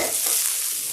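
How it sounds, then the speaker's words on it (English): Jalapenos sauteing in a hot pan make a bright, steady hiss that stays even and close for a brief moment, with no voices over it. "saute. I'm throwing my jalapeno first."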